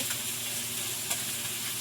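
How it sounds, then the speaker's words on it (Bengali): Fish frying in a pan gives a steady, close, even sizzle with a faint crackle, heard alone without talk. "মাছটা কিছুটা ভাজা হয়ে গেছে"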